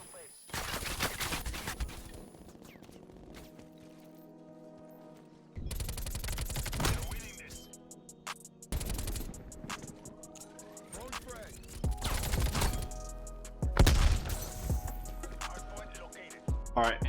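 Gunfire from the fastest-aiming gun in Call of Duty Cold War, with loud bursts of rapid automatic shots separated by short pauses, joined by game sound effects and a voice talking over them.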